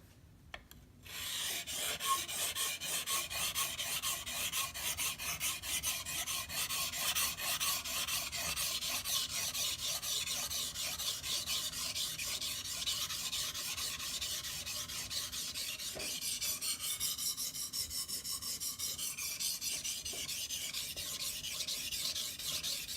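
Blade sharpened on a Shapton glass whetstone, coarse/extra-coarse grit: continuous fine rasping strokes in a steady back-and-forth rhythm, close and moderately loud, with no voices.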